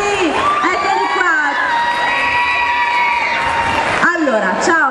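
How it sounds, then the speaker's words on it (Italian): A crowd at an outdoor variety show in Somma Vesuviana cheers and shouts loudly for dancers, with excited voices and whoops close by, continuous throughout and rising again at the end. "un altro bel applauso perché sono stati straordinari"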